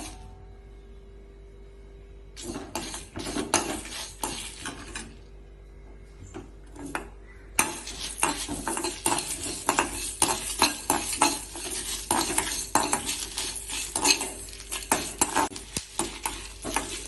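Masala spices and coriander fry in a pan, with a soft sizzle under repeated scraping and stirring of a spoon against the pan, quieter at first and then busier and louder with irregular clinks.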